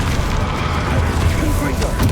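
A Bombarda blasting spell explodes in the Hogwarts Legacy video game with a dense, booming rumble that fills the whole stretch, mixed with game effects and a voice.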